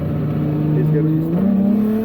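A drift car's engine drones loudly and close, then its pitch climbs sharply as the clutch is kicked and the revs rise.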